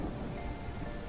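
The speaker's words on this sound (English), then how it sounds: "it was more so you guys could hear the storm sounds in the background." Storm ambience from the dinosaur survival game The Isle, a steady wash of rain with low rumbling thunder, constant and fairly quiet throughout, with no talk.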